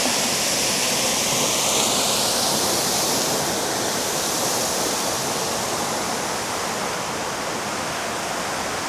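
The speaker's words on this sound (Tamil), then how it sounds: "குட்டி அருவி அழகாக இருக்குல்ல? ஒரு மாதிரி ஊசி ஊசியாக விழுது தண்ணி." A small waterfall at Ban Gioc Waterfalls, Vietnam, with water falling in thin, needle-like streams, makes a loud, constant close-up rush that stays steady throughout, with no voices.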